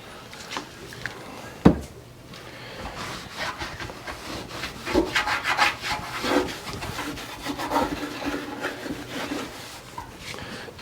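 Rubbing and wiping strokes of a cloth on Honda CB450 Black Bomber motorcycle parts, an irregular series of scrubbing swipes, close and moderately loud, with a sharp knock near the start and no talk.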